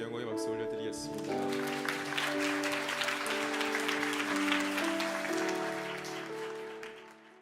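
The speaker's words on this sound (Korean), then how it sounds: "하나님께 영광의 박수 올려드리겠습니다." A church congregation claps in steady applause beneath sustained organ or keyboard chords, the clapping swelling in the middle and then tapering off as the music rings on.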